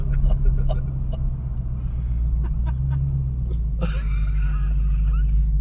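A 2021 Dodge Charger Hellcat Redeye idles after a burnout with a deep, steady low rumble close by, while brief voices and light clicks sound over it and a louder burst of noise rises near the end.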